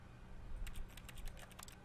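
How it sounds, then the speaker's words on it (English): Keyboard keys pressed in The Stanley Parable video game, a quick run of light, faint clicks over a low steady hum, with no voices. "when I click, you can hear like it's like he's pressing keys because that's all he does"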